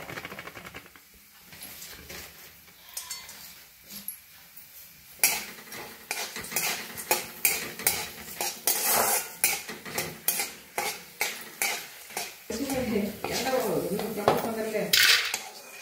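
Dried spice flowers roasting with a little oil in a hot kadhai for homemade red chilli masala powder, quiet at first, then a run of regular metallic scrapes and clanks of a spatula stirring over a faint sizzle, close by.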